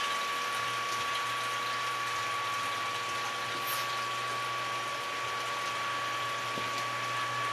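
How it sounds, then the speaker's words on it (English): Hot water gushes steadily from a wort chiller into a mash tun during an all-grain American pale ale brew, heard as an even, continuous splashing fill with a low pump hum beneath. "You hear it filling up, right?"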